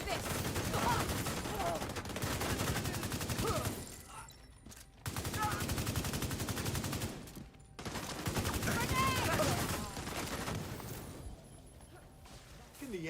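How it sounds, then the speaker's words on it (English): Dense gunfire from the video game The Division comes in three long bursts of rapid, overlapping shots with short gaps between them, and game voices can be heard under the firing. "Opening fire!"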